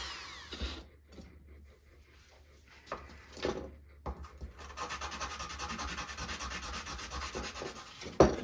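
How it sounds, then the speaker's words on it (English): A Holton H181 trombone slide's edges are rubbed by hand with 400 grit sandpaper, a close, continuous rasping scrape that steadies into an even sanding hiss, with no talking. "And then sand this guy down."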